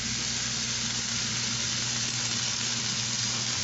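Italian sausage for a pizza topping cooking in a pan, a steady hissing sizzle with a low hum beneath, constant and close throughout.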